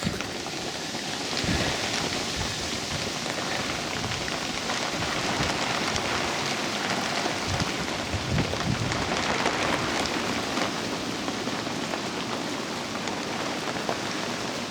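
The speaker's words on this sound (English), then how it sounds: "We like the rain. Bring it on." Steady rain falls at a permaculture camp, a dense, even hiss of drops on surfaces that continues without a break, close and moderately loud, with no voices.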